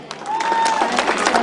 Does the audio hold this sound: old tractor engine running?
no